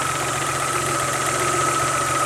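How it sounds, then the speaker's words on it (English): A 1992 Geo Metro XFI engine idles after the air conditioning compressor cuts off, a steady, even hum with a faint mechanical ticking, alone and close. "And it just turned the air conditioning compressor off and the engine idle back down."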